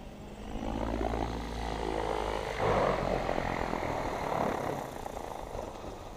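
A Thunder Tiger Raptor E700 electric RC helicopter drops with its motor off, the rotor blades whooshing in a steady broad rush that swells midway and fades slightly, fairly close and with no talk.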